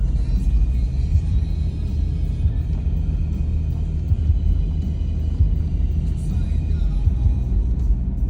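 A Toyota 4Runner in 4-wheel drive high rolls along a slippery, icy snow-covered Rocky Mountain road. A deep continuous rumble of engine and tires sounds from inside the cabin, steady and close, with no talking heard.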